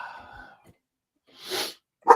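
German Shepherd dogs bark at home: a soft whimpering whine at the start, a gap of silence, then a rough, breathy bark and one sharp, loud final bark close by.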